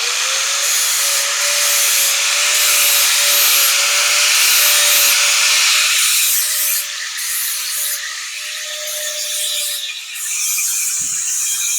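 An angle grinder blends a weld on a metal design project, a loud continuous high whine with abrasive rasping that shifts in pitch and pressure partway through, running alone without speech.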